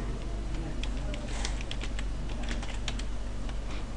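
Typing on a computer keyboard while entering a URL in a virtual machine's server access window, a steady patter of light key clicks over a constant low hum, no talking.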